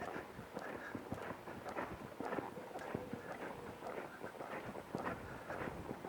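Horse cantering, hooves thudding in a continuous rolling rhythm with soft, muffled beats against steady wind noise and riding ambience, moderately near.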